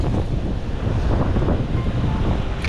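Wind blows over sea cliffs above the surf, buffeting the microphone with a steady loud rushing roar and low gusty rumble, continuous for a few seconds with no talk.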